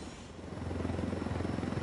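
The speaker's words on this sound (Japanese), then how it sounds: "このヘリで行っちゃおう。" A helicopter engine in Ghost Recon Wildlands runs with a steady, rumbling rotor throb that swells slightly louder and holds there, with no voices.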